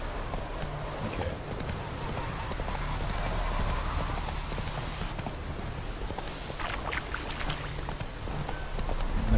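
Hoofbeats of the horse Roach in The Witcher 3 video game, a steady clip-clop of galloping hooves over a constant low rumble of game ambience, with brief speech nearby.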